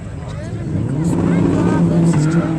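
A little Toyota Starlet Glanza with a factory 1300 turbo engine drag racing at Elvington Airfield, its engine note climbing as it accelerates hard, loud and close.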